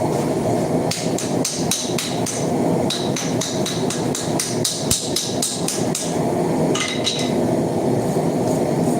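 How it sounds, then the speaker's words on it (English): Hammer handle tapping a hot forge weld on a farrier's rasp tomahawk, a quick run of sharp metallic knocks in uneven bursts, close and fairly loud over steady workshop noise. "I want to set the weld with the hammer handle."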